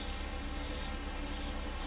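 An airbrush sprays clear coat in a steady airy hiss, with brief louder bursts at the top end as the trigger is worked, sitting over a continuous low background noise.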